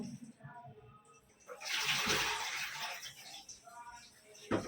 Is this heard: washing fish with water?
yes